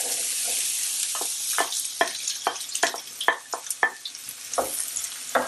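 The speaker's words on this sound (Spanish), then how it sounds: "vamos a echar nuestras verduritas a pochar" Vegetables cook gently in a couple of spoonfuls of olive oil over medium heat, a soft sizzle broken by repeated stirring scrapes and clicks at an uneven pace, close and fairly quiet.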